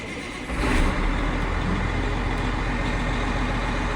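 A Challenger 95E tractor's engine fires up and settles into a steady, loud, low diesel rumble that runs on evenly after the start, with no one talking.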